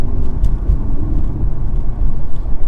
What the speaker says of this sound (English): now let's go into third